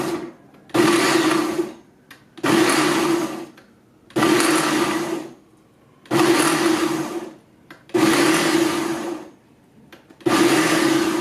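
An Oster Versa blender's food processor attachment pulsing to chop onions: six loud motor bursts of about a second and a half each, separated by short pauses, with a steady whirring pitch, close up.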